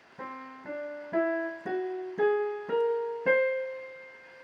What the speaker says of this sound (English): So if I play a scale just on skips alone